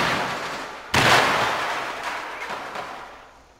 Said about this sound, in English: that's one cluster grenade charge